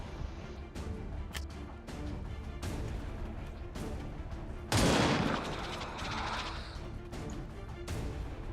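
Gunfire in XCOM 2: War of the Chosen: scattered sharp shots ring out over a steady game background, then a loud crashing volley erupts midway and trails off.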